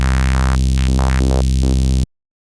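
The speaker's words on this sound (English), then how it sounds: "And we have that good old saw wave to test it." A bright, buzzy saw wave synth holds one steady low note while a sample-and-hold random filter jumps its tone in stepped, irregular bursts, loud and alone, ending abruptly.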